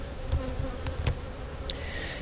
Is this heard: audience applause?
no